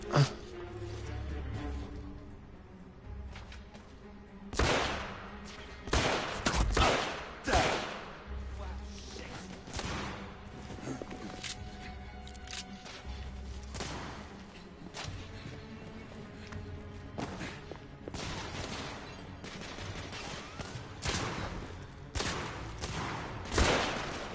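Gunfire rings out in the video game The Order: 1886 as sharp shots crack in irregular bursts and rapid volleys across the whole stretch, some with low booming thumps, under faint background game sound.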